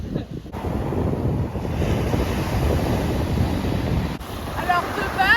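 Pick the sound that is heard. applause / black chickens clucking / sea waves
sea waves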